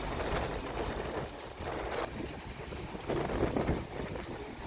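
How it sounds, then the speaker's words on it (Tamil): Strong wind from Cyclone Fengal roars in steady gusts, swelling and easing every second or so with broad rushing noise and buffeting against the microphone, with no voices. "இந்த வீடியோவிலே நீங்கள் பார்க்கலாம் எவ்வளவு காற்று சத்தம் கேட்குது அப்படின்ட்டு."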